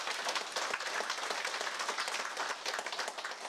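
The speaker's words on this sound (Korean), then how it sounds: "시장을 위해서 많은 분들 박수 한번 보내주세요" A crowd applauds the mayor of Naju during a New Year district visit, a dense, even wash of many hands clapping at moderate level for the full stretch, with no speech on top.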